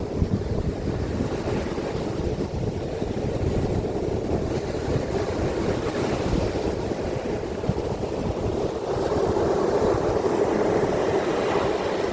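Strong wind blows steadily by the sea at a coastal village in Mathagal, roaring across the microphone for the whole stretch, with the rush of waves beneath and no voices.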